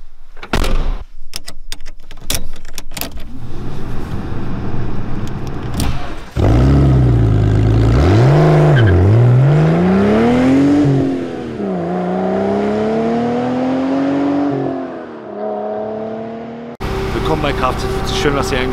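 A VW Lupo drives on the Autobahn in near-freezing weather. Its engine drones and its pitch rises and falls loudly as it runs, with sharp clicks and knocks near the start and talk over parts of it.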